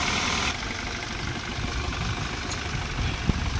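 Petrol 1199 cc engine of a 2010 Chevrolet Beat idling, a steady, even hum with low rumble throughout, fairly quiet and close, with no talk over it.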